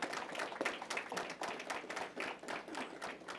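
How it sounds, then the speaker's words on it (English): An audience at a city grand opening and ribbon cutting applauding, dense clapping throughout, faint and somewhat distant. "Please let's give the City of Newark a round of applause"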